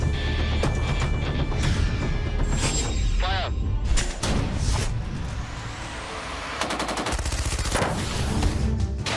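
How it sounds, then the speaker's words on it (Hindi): Intermittent gunfire in a jungle during a security operation in Poonch, Jammu and Kashmir: sharp cracks and short bursts come in irregular clusters. They are loud and reverberant, with a voice talking underneath. "जंगल में रुक रुक कर गोलीबारी"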